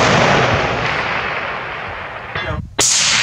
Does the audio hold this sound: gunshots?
yes